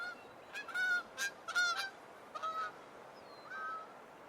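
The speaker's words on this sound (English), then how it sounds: "A flock of geese passes by," A flock of geese honks in a series of clear, repeated calls, bursts of several honks at a time, moderately close with a quiet background and no talking.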